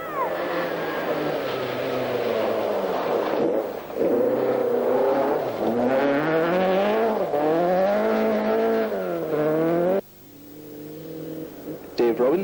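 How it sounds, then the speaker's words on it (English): A Ford Escort RS 1800 rally car races along a stage of the 1978 Mintex Rally, its engine loud and close as it revs and climbs through the gears with tyre squeal, then cuts away abruptly near the end. "Car 30, Dick Rowland in the RS 1800."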